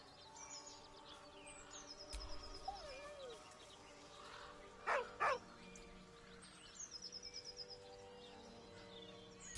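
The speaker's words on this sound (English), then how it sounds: "With a deep, heartbroken whine, the dog bows his head." Scratch the dog in Baldur's Gate 3 gives short sharp barks then a quick run of yips, heard faintly against quiet ambient bird chirps and soft background tones.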